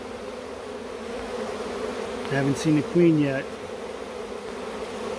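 Close, steady buzzing of a honey bee swarm leaving a hole, with someone speaking briefly in the middle over the drone.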